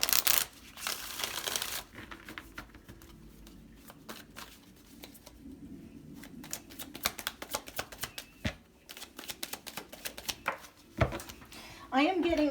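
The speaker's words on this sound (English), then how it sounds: "We're going to do one more shuffle." A deck of tarot cards riffle-shuffled by hand in a long flurry, close and crisp: a dense burst, then repeated irregular flicks and slaps of cards, with talking in places.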